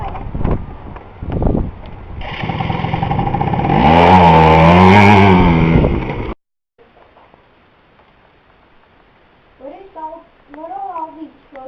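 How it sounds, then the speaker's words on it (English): A Henry Ford gasoline quadricycle, an early horseless carriage, runs with its engine revving and rising in pitch for about four seconds before cutting off abruptly, with voices talking before and after. "I have just bought myself a quadricycle. It was made by Henry Ford."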